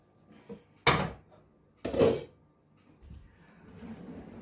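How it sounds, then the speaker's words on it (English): A frying pan is pulled out of a kitchen cupboard, two distinct knocks and clatters about a second apart, close and moderately loud, followed by quieter rustling handling sounds. "Alright, we'll get the fry pan out."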